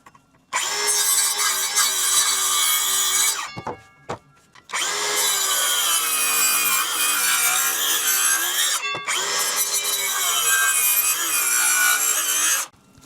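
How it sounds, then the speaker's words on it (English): A circular saw, held at an angle for a shallow depth, cuts across a wooden stair ladder piece with a loud whining rip. There are three long cutting bursts separated by brief pauses, and the blade is dull enough to smoke. "I'm using a circular saw for this."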